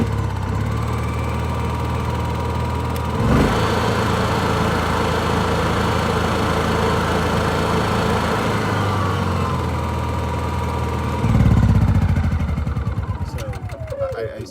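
A Honda EU7000is inverter generator running with eco throttle off gives a loud, steady, close engine drone. It shifts in tone a few seconds in, then surges louder near the end.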